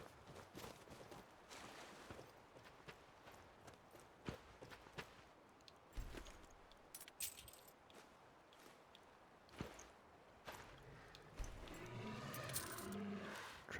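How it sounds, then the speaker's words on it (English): Horse hooves clip-clopping in the video game Requiem, a quiet irregular series of hoof knocks stepping along with soft ambient background, faint and intermittent. "Oh, it's a horse, right."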